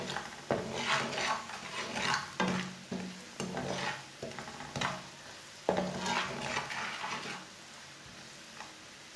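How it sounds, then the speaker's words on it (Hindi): Ground spices fry in a pan for macaroni, a soft sizzle under repeated scraping stirs of a spoon against the metal, close and rhythmic. "मसाले को मैंने आधा मिनट तक भून लिया।"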